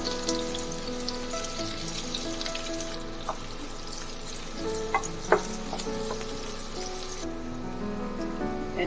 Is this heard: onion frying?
yes